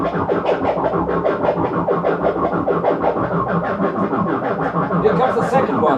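Korg MS-20 analog synth rhythm patch driven by two analog sequencers at different tempos, producing dense overlapping pulsing and throbbing patterns that run steadily and loudly throughout.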